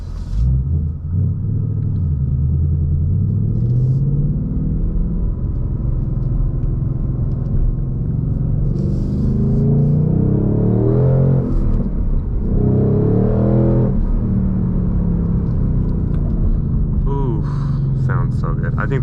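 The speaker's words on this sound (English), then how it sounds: "you guys just need to hear the exhaust" A 2021 Ford Mustang Mach 1 with a six-speed manual, its loud exhaust rumbling steadily while driving, with revs rising and falling in two surges near the middle and a person speaking over it.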